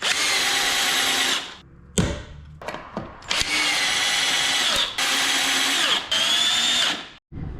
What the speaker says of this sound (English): The battery is charged and ready to screw.